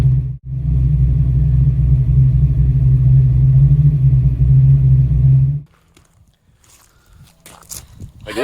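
A Fox Body Mustang with a FlowMaster exhaust idles with a steady, deep, loud rumble for about five and a half seconds, then cuts off abruptly, leaving faint rustling and handling noises.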